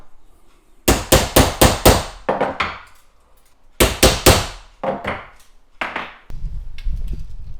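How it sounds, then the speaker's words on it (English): A hammer nails the pin of an umbrella frame in quick bursts of four or five sharp blows, pauses, then strikes again, the impacts loud and close. "That will then be nailed, and then you've got your completed umbrella frame."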